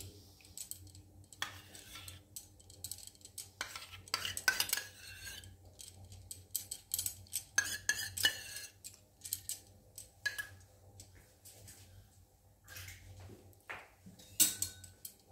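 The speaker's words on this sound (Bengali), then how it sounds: "একটু মিশিয়ে নিচ্ছি দইটা দিয়ে।" A spoon stirs whisked sour yogurt into an oil-free potato and pea ghugni curry in a pot: faint, irregular clinks and scrapes of metal against the pan, quiet and close, with soft pauses between strokes.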